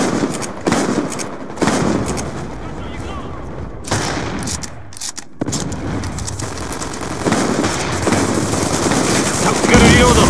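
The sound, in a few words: gunfire in video game Call of Duty Black Ops 2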